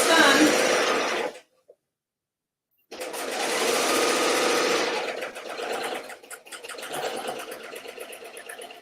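A serger sewing machine stitching off the edge of a kaftan's fabric, running in a loud steady whir, pausing briefly, then starting again for several more seconds of fast continuous stitching.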